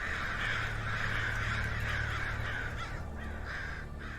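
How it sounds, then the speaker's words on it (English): Crows caw loudly and close by in a steady run of harsh, repeated calls over constant outdoor background noise. "There go the crows."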